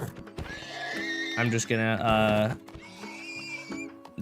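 A horse in Minecraft Bedrock gives a loud, shrill whinny over a low background drone, while hoof clops and soft game sounds surround it.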